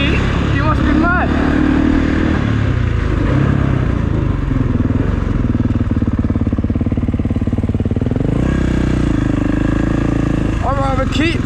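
A Kawasaki KX450 dirt bike engine runs loud and close throughout, its tone rising and falling as it revs, with people talking over it.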